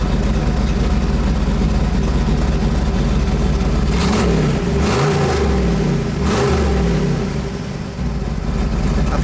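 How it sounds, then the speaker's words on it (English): A 1970 Dodge Challenger R/T with a 440 engine and original exhaust is heard from the tailpipes, a loud steady rumble swelling through a few throttle blips and settling back down. "I'm gonna rev it up just a little bit, Dalton."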